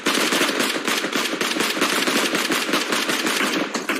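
A relentless stream of rapid automatic gunfire fills a PUBG Mobile esports team match at the 32nd SEA Games, with dense overlapping shots close and loud throughout.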